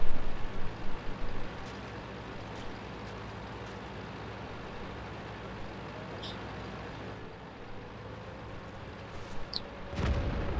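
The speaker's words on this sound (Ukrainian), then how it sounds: "І артилерія стріляє, я думаю, допомагає їм." Artillery fire in the World of Tanks game, heard as a run of loud low booms at the start, then a steady engine-like rumble and a final sharp blast near the end, with no talk.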